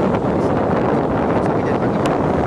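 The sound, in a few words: strong wind at Sanur beach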